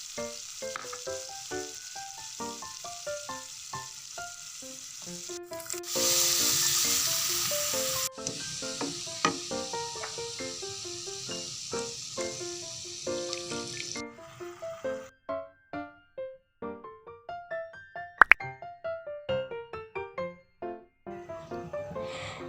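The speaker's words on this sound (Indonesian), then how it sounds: "tinggal kita tumis, dan waktu menumisnya kasih sedikit air supaya lebih cepat empuk katesnya" Young papaya (kates) filling for pempek is sautéed in a pan with a splash of water, producing a brief, loud hissing burst and light stirring clatter over a steady tonal background.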